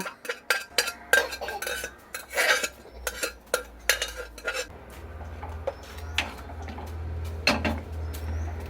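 A spoon stirs cooked, mashed toor dal into okra sambar in a metal pot, with a quick run of sharp clinks and scrapes against the vessel, then softer, sparser scraping over a low steady hum from the stove.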